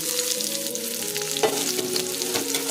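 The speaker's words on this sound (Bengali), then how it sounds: "পাঁচফোড়ন দিয়ে পেঁয়াজ কুচিটা দিয়ে দিলাম।" Chopped onion and panch phoron spice seeds fry in a small amount of oil in a kadai, giving a steady close sizzle with occasional crackles and stirring scrapes throughout.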